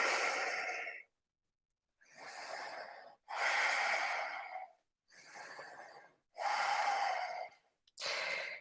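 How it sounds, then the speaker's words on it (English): Slow, deep breathing held in downward-facing dog during a vinyasa yoga flow: six long, loud, airy breaths close to the mic, each a few seconds long with short silent gaps between them. "5 breaths."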